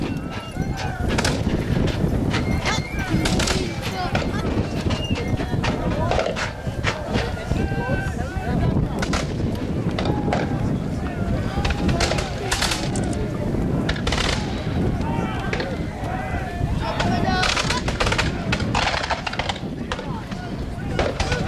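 Musket volleys at a War of 1812 battle re-enactment of Chippawa, sharp bangs and crackling shots scattered throughout at mid distance, mixed with crowd noise and a narrator talking.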